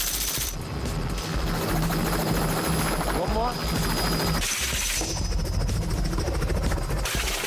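A helicopter circles during firearm training for a wild boar hunt, its rotor chop and engine roar loud and continuous throughout, with a voice speaking briefly over it.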